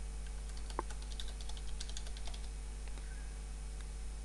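Password being typed on a computer keyboard, a quiet run of light key taps with an irregular rhythm over a low steady hum, one sharper click near the start.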